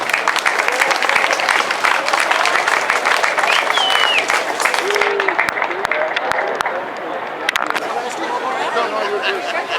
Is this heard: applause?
yes